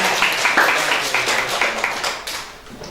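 Audience applause at a teachers' training session on positive school culture, a dense patter of hand claps sustained for about three seconds and slowly thinning toward the end.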